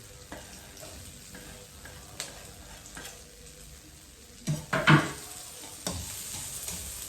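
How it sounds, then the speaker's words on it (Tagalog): Garlic and onion frying in a pan, a soft continuous sizzle with occasional stirring scrapes, then a louder cluster of sharp clattering strokes near the end. "Lagyan natin itong bawang muna ay sibuyas."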